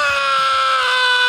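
A man lets out a sustained, high-pitched scream in a movie trailer, a single strained wail holding steady pitch, loud and close.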